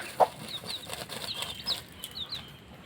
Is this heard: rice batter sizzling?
no